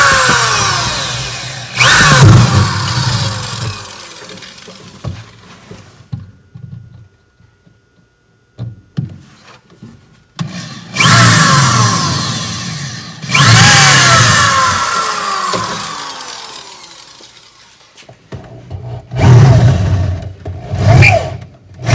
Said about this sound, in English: get my drill, do the two corners